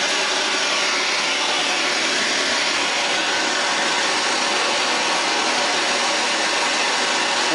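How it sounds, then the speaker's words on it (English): Gas blowtorch flame heating a copper pipe solder joint, a steady loud roaring hiss that runs unbroken and close throughout with no voices. "What we're going to do is going to heat up this joint gradually."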